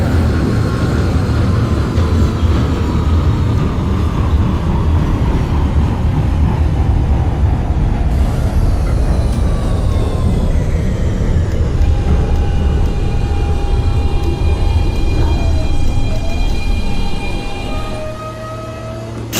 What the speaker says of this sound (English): This is a Coney Island bound Q local train.